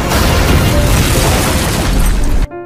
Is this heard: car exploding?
yes